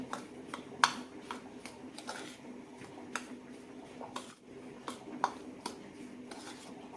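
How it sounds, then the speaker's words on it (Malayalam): A spoon scrapes and taps against a bowl while rice flour, roasted semolina and salt are mixed, giving sparse, quiet clinks at irregular intervals with faint background hum. "നന്നായി മിക്സ് ചെയ്യാം"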